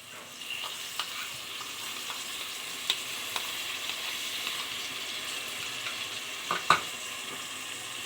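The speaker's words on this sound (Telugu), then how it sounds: "1/2 కప్పు వరకు పెరుగు గడ్డలు లేకుండా బాగా మిక్స్ చేసుకొని" A pan of spiced rice masala with yogurt mixed in simmers with a soft, continuous frying sizzle, and scattered light stirring taps and clinks come through over several seconds.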